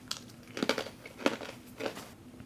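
Quiet, close crunching of a dry MRE meal being chewed, a few crisp bites spaced irregularly over a faint background.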